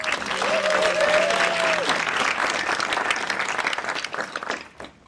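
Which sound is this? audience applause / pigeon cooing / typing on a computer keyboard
audience applause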